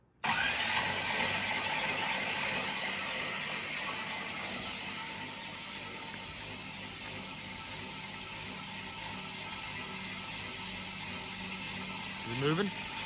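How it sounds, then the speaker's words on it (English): A 1974 Camaro engine being turned over by its starter to prime it, a steady mechanical churn running throughout at close range with no ignition catching, and a short rising whir near the end. "Just gonna click the starter over."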